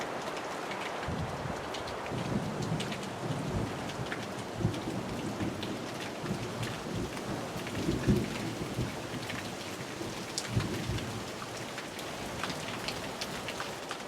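Heavy rain pours steadily through an evening storm over a garden, with low rumbles of thunder swelling several times beneath the constant hiss of falling drops; no one speaks.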